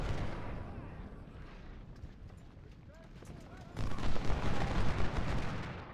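Musket volleys crackle through a Gettysburg battle in the Ultimate General: Civil War strategy game, rolling distant gunfire that swells into a louder, denser barrage near the end.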